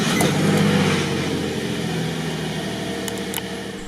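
A 2003 Nissan 350Z engine starts and settles into a steady, close, rumbling idle with a broad mechanical hum throughout.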